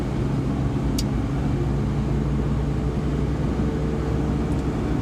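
A Suzuki Carry non-turbo mini truck drives along a side street, giving a steady, unbroken low engine drone and road rumble that stays constant throughout, with no voices.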